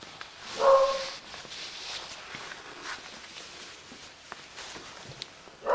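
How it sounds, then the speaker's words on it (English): A dog barks indoors, one clear bark early on and another at the very end, with faint footsteps and soft shuffling noises in between. "And the dog's barking."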